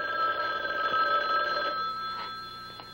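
An old telephone bell rings steadily in a quiet room, a sustained metallic trill of moderate loudness that fades near the end, with no talk over it.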